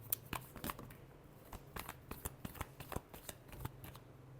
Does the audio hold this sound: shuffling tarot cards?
yes